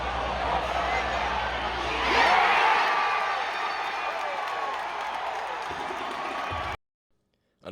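A college football stadium crowd cheering and applauding, a dense broad roar that swells briefly before cutting to silence.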